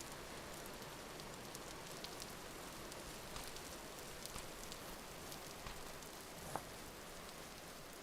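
Rain in the survival game Vintage Story falls as a soft, steady hiss of drops with faint scattered patters and one brief sharper tap, quiet and continuous with no talk.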